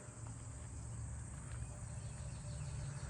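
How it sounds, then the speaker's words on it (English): Faint, continuous high-pitched trilling of trig crickets comes from vegetation in a neighbourhood outdoors. The trilling sits steadily over a low background hum, with no voices. "I'm definitely hearing trigs all over this stuff right here."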